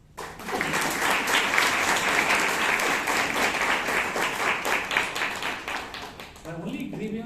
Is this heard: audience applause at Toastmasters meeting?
yes